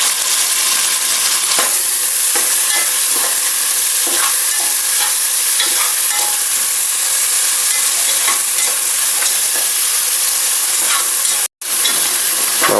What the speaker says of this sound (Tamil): தக்காளியை வந்து நம்ம நல்லா வதக்கணும்.